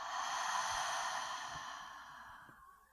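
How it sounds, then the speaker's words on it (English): One long, deep exhale through the mouth, soft and breathy and close, fading out over a few seconds with no talk. "So inhale through your nose. Exhale, H-A-ha."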